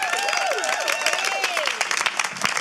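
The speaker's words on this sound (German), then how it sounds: "Vielen Dank für den Applaus" Lively applause and cheering from an audience at a live event, with whistles and shouts rising over dense clapping, loud and close throughout.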